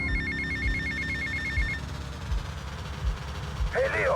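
A telephone rings in Grand Theft Auto: Vice City, giving a steady electronic double-tone ring repeated for nearly two seconds over low game ambience, followed later by a short voice.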